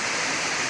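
Heavy rain pours down in a steady, loud, dense hiss with no breaks, close and overwhelming, while water runs through rain gutters.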